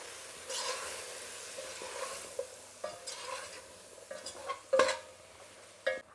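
Chili powder and coriander powder are stirred into a pot of sambar, with a low simmering hiss behind scattered spoon scrapes and clinks against the pan that build toward louder knocks near the end, and no talking.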